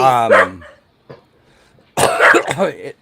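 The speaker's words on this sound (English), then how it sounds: "Dog fight." Dogs scuffle and bark in a short fight, with a loud vocal burst at the start, a brief sharp yelp, then another harsh bark or snarl near the end; a person's voice may be mixed in.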